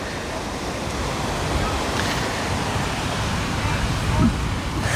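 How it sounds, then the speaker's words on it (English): A steady roar of surf washes continuously, with broadband rushing noise and wind buffeting the microphone, no distinct individual breakers standing out. "Many over there with some fantastic waves over that way."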